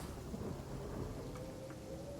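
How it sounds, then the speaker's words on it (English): A rain spell cast in the video game Divinity: Original Sin sets off a steady wash of falling rain with low rumbling underneath, continuous and fairly soft throughout with faint brief ticks, and no talking. "We do have the rain spell, though."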